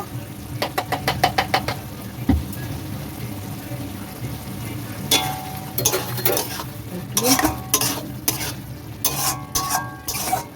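Ghee and kasuri methi stirred in a pan for chicken bharta with boiled egg: rapid metal spoon clacks against the pan in bursts, scraping and a low sizzle, close, with a faint voice at moments.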